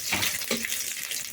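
Dried and green chillies, panch phoron and mustard seeds hissing in hot oil, a close, bright continuous sizzle with small crackling bursts.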